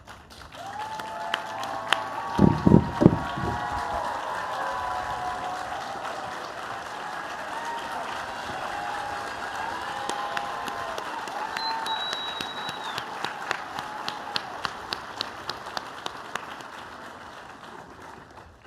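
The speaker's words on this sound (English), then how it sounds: "let us give you a round of applause" A graduation-ceremony audience applauds the graduates' families in a long, steady round of clapping from a large crowd in a hall, with a few louder claps near the microphone early on and a scattering of sharp claps toward the end.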